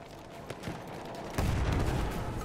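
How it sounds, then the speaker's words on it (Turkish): Battlefield 1 combat with bomb blasts and gunfire: scattered distant shots early on, then a heavy explosion rumbles in and a dense, sustained barrage of fire continues loudly to the end. "Bir bomba daha."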